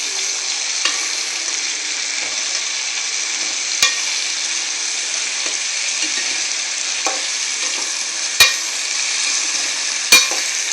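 Potatoes frying in a pan with no water added, a loud, steady hissing sizzle with a few sharp spatula clicks scattered through it.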